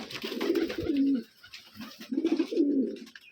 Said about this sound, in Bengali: স্কোয়ার কবিতর এগুলোকে বলা হয়।